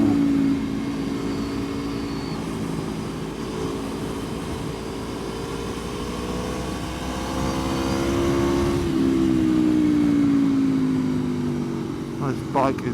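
An Aprilia Tuono motorcycle engine drones steadily throughout a ride, its pitch rising and falling slightly with throttle changes, mixed with continuous wind rush and brief speech from the rider.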